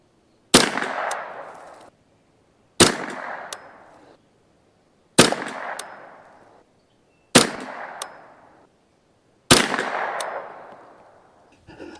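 Five sharp rifle shots from a custom Ruger 10/22 with a Kidd barrel, Brownell's receiver and bolt and an MDT Field stock, evenly spaced about two seconds apart, each a loud close crack with a short decaying tail.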